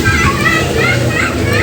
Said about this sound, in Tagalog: Ang ingay sa labas, naglalaro yung mga bata.